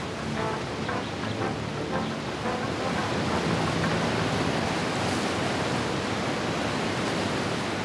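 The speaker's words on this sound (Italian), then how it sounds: "Una cascata! È enorme!" Victoria Falls roars in an animated historical adventure about the explorers Stanley and Livingstone, a dense, steady rushing wash of falling water that stays loud and unbroken throughout.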